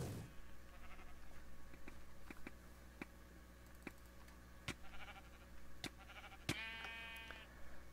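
A sheep in a Minecraft Mineplex arcade game bleats faintly among scattered clicks and taps of gameplay, with a brief wavering bleat near the end over a steady low background hum.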